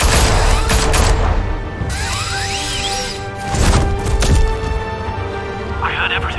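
Gunfire aimed at Batman in Batman: The Telltale Series, a dense burst of loud shots and crashing impacts mixed with shouting voices and a tense game score, rising again near the end.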